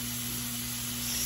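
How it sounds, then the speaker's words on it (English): Hot dogs sizzle in a hot pan, a steady close hiss of frying that holds evenly and swells slightly toward the end, with a low hum underneath and no talking. "So, let's get to starting these hot dogs. Oh, sizzle."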